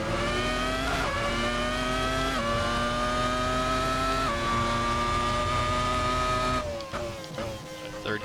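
A race car in Assetto Corsa is pushed hard, its engine screaming at high revs through several gear changes marked by brief dips in pitch, loud and sustained before easing off near the end.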